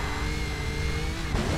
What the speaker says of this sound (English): this is MG Metro 6R4 Group B car sound